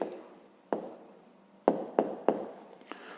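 Pen strokes on paper while writing out the answer to a math exercise: a few separate short scratches and taps, close and fairly quiet, with pauses between them and no talking.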